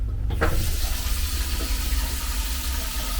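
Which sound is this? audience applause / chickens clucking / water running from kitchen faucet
water running from kitchen faucet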